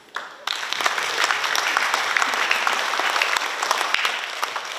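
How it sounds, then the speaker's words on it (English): Loud, sustained applause from a large audience at a graduation ceremony in Pohnpei starts abruptly and continues with crisp, dense clapping throughout. "let's please give a huge round of applause to our graduating class"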